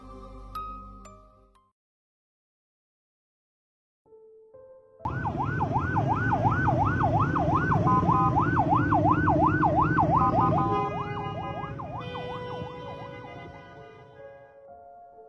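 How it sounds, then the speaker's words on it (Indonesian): A loud wailing ambulance siren rises and falls in rapid repeating cycles over heavy traffic on a busy main road, starting after a brief quiet gap and fading slightly toward the end. "Sirene ambulan nyaring memohon dibukakan jalan pada lintasan protokol padat lalu lalang kendaraan."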